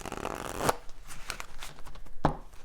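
A deck of oracle message cards is shuffled up close, with rapid papery riffling and two sharp snaps as the cards are squared.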